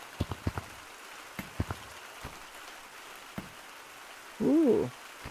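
Rain falling from a little storm cloud in the VR game Gorilla Tag, heard as faint scattered drop-like ticks and a brief burst of noise near the end.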